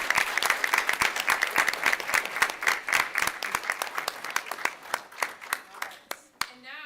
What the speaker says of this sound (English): congratulations and a round of applause to all of you